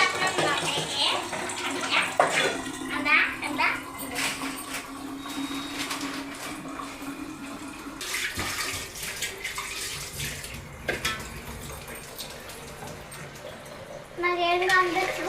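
Water runs from a tap into a vessel in a home kitchen, a continuous near hiss under people talking throughout, with a few clinks of utensils.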